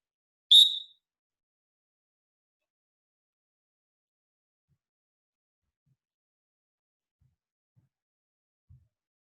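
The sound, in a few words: whistle blown for drill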